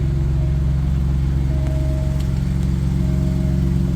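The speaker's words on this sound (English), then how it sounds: "This is a twin turbo V6," A 2023 Maserati MC20 Cielo with a twin-turbo V6 makes a deep, steady close-up rumble at idle with faint rises, loud and continuous with no talk.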